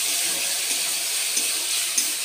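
Water pours steadily into a pan of prawn curry masala, making a continuous, close, hissing splash with a few small bubbling pops and no break.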